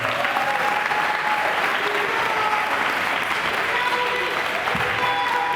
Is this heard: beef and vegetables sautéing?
no